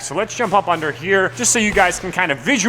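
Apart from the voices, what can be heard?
No everyday noise stands out behind the speech.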